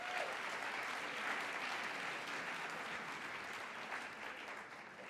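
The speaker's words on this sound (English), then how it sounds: "So by a quick round of applause, how many of you are KPCC listeners?" Live audience at a Hollywood event clapping together, a dense, steady round of applause that holds for several seconds and slowly tapers, with no voices over it.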